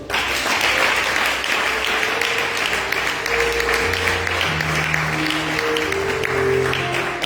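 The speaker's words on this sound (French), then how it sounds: "Est-ce qu'on peut acclamer le Seigneur?" A congregation applauds at a French-language celebration worship service, with sustained, dense clapping filling the room over steady keyboard or organ notes.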